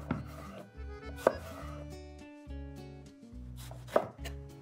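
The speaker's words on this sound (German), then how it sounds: "Die beginne ich jetzt in haselnussgroße Stück zu schneiden." Kitchen knife chopping eggplant into hazelnut-sized pieces on a board for ratatouille, a series of crisp irregular cuts with a few louder thuds, close and clear.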